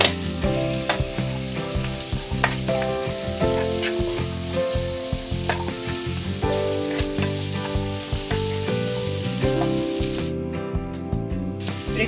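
Chopped onion and ginger garlic paste fry in a pan for restaurant-style butter chicken, a steady close sizzle running through the whole stretch beneath continuous background music.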